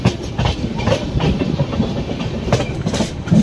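The Kumbh Express runs on the tracks. A continuous rolling rumble carries rhythmic wheel clatter, heard close from on board.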